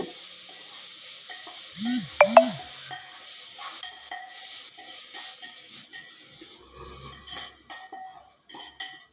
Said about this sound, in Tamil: ஒரு டூ மினிட்ஸ் நல்லா வதக்கி விட்டுருங்க